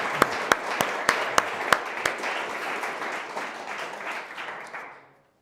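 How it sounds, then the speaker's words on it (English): An audience at a lecture claps to welcome the speaker, a burst of dense applause with a few sharp, close claps standing out early, then tapering off and fading out near the end. "So if we could clap and welcome Paul, who's watching this right now."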